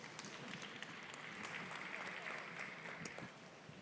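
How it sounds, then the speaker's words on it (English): Audience applause for youth livestock show exhibitors at a rodeo arena, a steady spread of clapping from a crowd that carries on throughout and eases slightly at the end. "Let's give them a nice round of applause."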